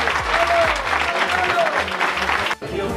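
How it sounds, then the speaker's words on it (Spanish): Loud, dense applause from diners at a Real Madrid supporters' club anniversary meal honouring Manolo Velázquez, continuous clapping that drops out briefly near the end before resuming. "Un aplauso muy fuerte para él."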